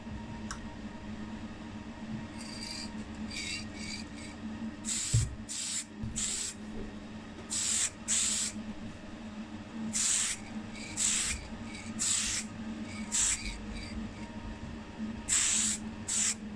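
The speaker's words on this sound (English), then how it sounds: "I actually just went with a single coat of primer just on the base here" Primer is sprayed from a can onto the base of a 1957 Austin Healey 100 model in short, sharp hissing bursts, about a dozen irregular blasts, close and clear over a faint background hum.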